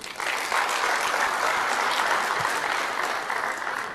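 Steady, dense applause from a conference audience fills the hall, a continuous wash of clapping that starts abruptly and holds at full strength for several seconds with no voices over it.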